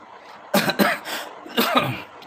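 A person coughs several times in two short bursts, close and fairly loud, with a throat-clearing quality and no speech around it.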